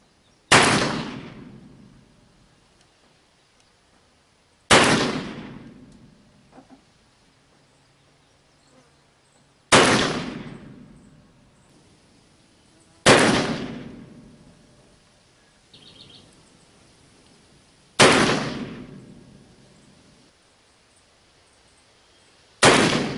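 An 1858 Pietta black powder revolver loaded with homemade powder fires six loud, sharp shots spaced a few seconds apart, each followed by a quick fading echo, with quiet gaps between them.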